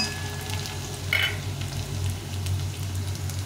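Potato pieces frying in oil over lowered heat, a steady soft sizzle with low crackle throughout and a brief brighter spatter near the start, close and alone.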